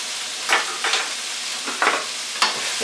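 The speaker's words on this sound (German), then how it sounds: "Den röste ich ganz kurz an" Spices, Tajin and coconut curry, toasting and sizzling in a hot pan for a salmon cucumber curry, a steady close frying hiss broken by several short stirring scrapes.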